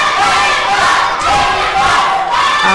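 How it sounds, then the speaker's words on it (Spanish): A lucha libre wrestling crowd at an anniversary event chants and shouts loudly in support of the wrestlers, a dense roar of many voices rising in rhythmic waves and filling the arena up close. "Aunque el grito va más en apoyo hacia los técnicos."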